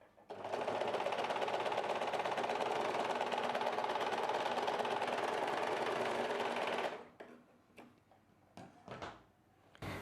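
A sewing machine runs steadily while stitching a blouse front, a loud continuous whirring for about seven seconds that stops abruptly, leaving a few faint handling clicks and taps.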